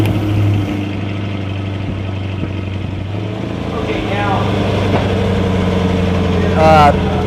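A Chevrolet Corvette C8 with an upgraded exhaust set to its loud mode idles with a steady, deep rumble, swelling slightly near the end while a person speaks briefly over it.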